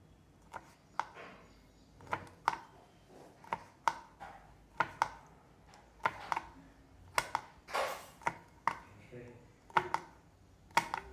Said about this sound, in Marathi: आपण आळूची वडी चिरून घेत आहोत